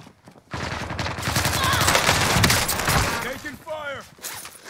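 Dense bursts of automatic gunfire in Call of Duty Warzone on Rebirth Island, KRIG 6 rifle, loud and near, rattling steadily for several seconds before fading into scattered shots and a voice.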